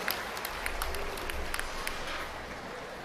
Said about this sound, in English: Let's have a round of applause for all of our Class 3 exhibitors.